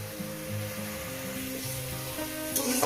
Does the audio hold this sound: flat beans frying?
yes